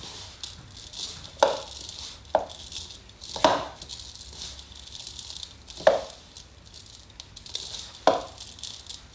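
Butter rubbed by hand into an apple rhubarb crisp topping, heard as soft, close crumbly squishing with a handful of sharper taps and knocks against the bowl at irregular intervals.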